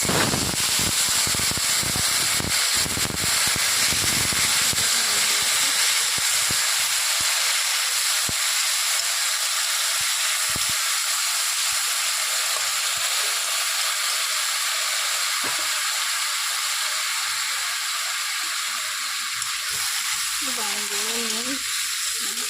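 Vegetables tipped into hot oil tempered with cumin seeds in a wok give a loud, steady sizzling hiss that fills the clip, with scattered clatters early on and a faint voice near the end.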